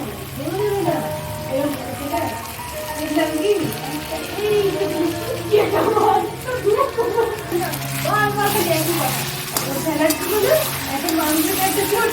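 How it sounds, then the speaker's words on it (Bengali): Water poured into meat cooking in a pan with a tomato and spice masala: running, splashing water with bubbling, while voices talk over it throughout. "মাংসটায় জল দিয়ে দিয়েছি"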